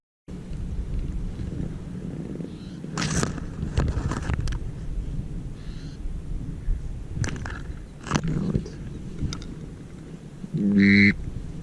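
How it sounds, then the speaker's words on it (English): Teal landing and sitting among decoys on water during a Nebraska duck hunt, with scattered quacks and wing splashes at a distance over a steady outdoor background, plus a short electronic beep near the end. "Teal in the decoys. Bunch of ducks out front."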